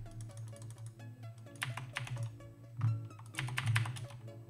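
Close, rapid clacking of a computer keyboard in uneven bursts during an online poker session, over steady background music.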